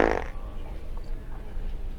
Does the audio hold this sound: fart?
yes